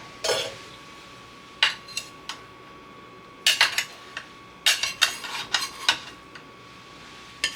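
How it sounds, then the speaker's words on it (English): A knife scrapes and clinks around the edge of a quiche pan in a series of short, close metallic taps and scrapes separated by quiet gaps. "Kind of go around the outer edge to make sure that your crust is away from the pan."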